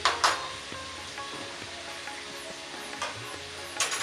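Meat frying in a pan for bandhakopi mangsho, a cabbage and meat curry, gives a steady close sizzle with a few light clinks of utensils, and nobody speaks.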